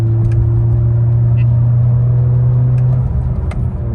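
A 2018-2022 Honda Accord Sport engine hums steadily with a low droning tone, building gently as it accelerates in fourth gear, close and continuous throughout.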